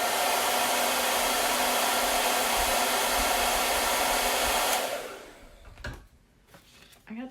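Hair dryer blowing loudly and steadily up close while drying a bleached flannel sign, a broad rushing hiss that cuts off after about five seconds, followed by faint handling knocks.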